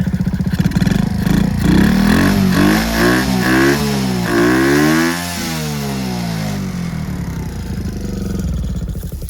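A Kinroad Prince moped engine revs up and down in loud, close bursts, its pitch climbing and falling several times before settling into a steady idle.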